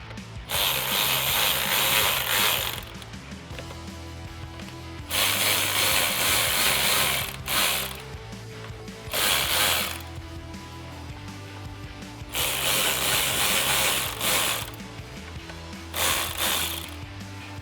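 A hand ratchet tightens fog light mounting bolts on a 2021-2022 Ford Bronco, producing close, loud bursts of rapid clicking in about six strokes separated by short pauses, with no talking.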